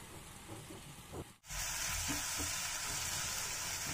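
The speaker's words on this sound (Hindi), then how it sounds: "तेल गर्म हो जाने पर हम इसमें दो तेज पत्ते और दो सूखी लाल मिर्च डालेंगे और साथ में ये पीसे मसाले भी डाल देंगे इनको हम दो से तीन मिनट तक भून लेंगे" Bay leaves, dried red chilies and ground spices drop into hot oil, and a quiet sizzle jumps to a loud, hissing fry that stays steady and close after the addition.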